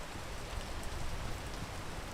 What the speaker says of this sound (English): Waiting for this rain to die down.